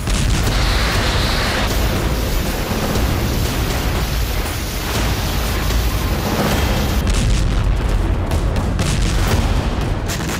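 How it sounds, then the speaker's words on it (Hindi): Russian weapons explode in the war in Ukraine, a dense, continuous roar of heavy booms and rumbling blasts, loud and unbroken, with no voices. "चौबीस घंटे के अंदर यूक्रेनी फोर्स ने रूसी हथियारों पर बहुत बड़ा विस्फोट कर दिया"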